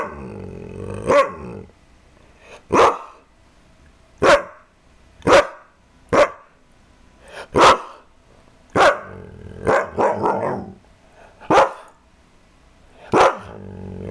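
A dog barks loudly about ten times in sharp, separate bursts, several with a rough growly edge, spaced irregularly with quiet gaps between them.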